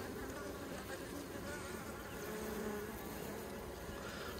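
Honeybees swarm around an open hive as a frame is lifted, a dense continuous buzz of many insects close by, steady and fairly soft, with no talk over it.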